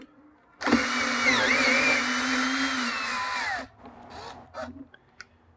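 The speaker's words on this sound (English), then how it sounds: "first step is just to take these two grub screws out from the sides of the pedal" A power driver spins out grub screws from the side of an InMotion V8F electric unicycle pedal in one close, steady three-second whir, followed by faint small handling clicks.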